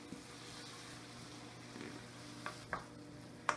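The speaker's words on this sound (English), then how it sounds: "after our lime juice just went in, we're just going to give it all a stir again now" Vegetables sautéing in a pan just after lime juice is added, a steady soft sizzle with a few sharp scraping clinks of the spoon near the end as everything is stirred.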